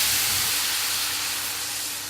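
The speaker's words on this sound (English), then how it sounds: "we're going to add some white wine" Steady broadband hiss and sizzle as white wine hits mussels cooking in a hot pan for Neapolitan mussels, continuous and fairly loud, slowly easing off over two seconds with no voices.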